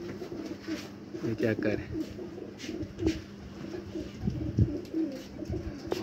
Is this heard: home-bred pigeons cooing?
yes